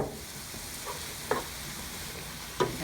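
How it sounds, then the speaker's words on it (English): Chopped mushrooms sautéing in melted butter in a pan for beef bourguignon, a soft steady sizzle broken by two sharp stirring scrapes, heard alone without talking. "when the butter's melted, I'm going to add the chopped mushrooms"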